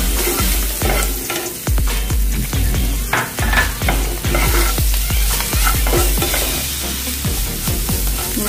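Masala of red chilli powder, turmeric, salt and curry leaves roasts in a pan for vada pav, a loud, close sizzle punctuated by frequent rhythmic scraping stirs.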